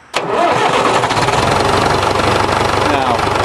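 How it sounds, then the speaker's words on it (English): A farm tractor engine, one with an oil pressure fault, fires up abruptly and settles into a loud, steady, rough idle close by, running continuously to the end. "We're gonna let it run here for a little while"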